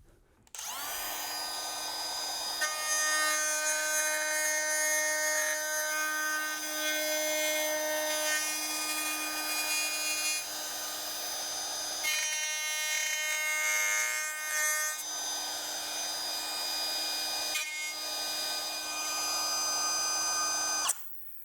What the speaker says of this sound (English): I'm just gonna start routing and see how we go from here